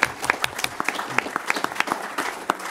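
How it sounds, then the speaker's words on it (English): Audience applause after a talk at an event on parks and green spaces, heard as a modest scattering of irregular claps from a small crowd. "may I ask you to clap again for the audience"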